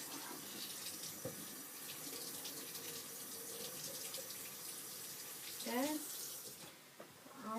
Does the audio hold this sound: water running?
yes